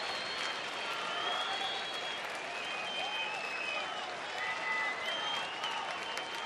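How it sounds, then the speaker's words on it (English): Baseball stadium crowd at a Pittsburgh–Texas game applauds steadily in support of pitcher Matt Garza before a two-out pitch, a dense, continuous wash of clapping with faint cheers throughout. "Crowd trying to get behind Matt Garza, show some support for him"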